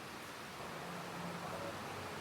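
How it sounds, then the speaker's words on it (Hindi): Steady rain falls outdoors as a faint, even hiss that runs unbroken and alone throughout. "बारिश बहुत बेकार है भाई"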